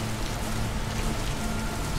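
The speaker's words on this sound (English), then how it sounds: "Not just a slight drizzle. Hard rain." Hard rain pours in the Splatter Blood Red Edition video game as a loud, dense, unbroken hiss, with no voices.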